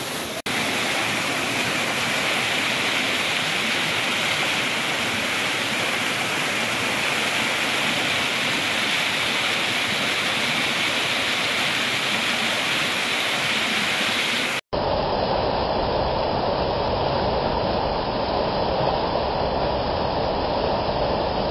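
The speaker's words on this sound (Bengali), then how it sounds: "ঝর্ণার জলটা কত সুন্দর আওয়াজ করে" A waterfall in Darjeeling pours continuously, a dense, unbroken rush of water that stays loud and close throughout, with a brief cut partway through and no voices.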